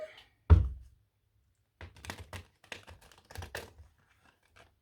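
Cards riffled and shuffled up close: a soft thump, then a run of quick papery flutters and clicks, with no voices.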